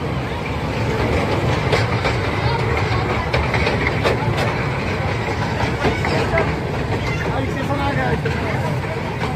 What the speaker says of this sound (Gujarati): સરસ એવી ટ્રેન જાય છે.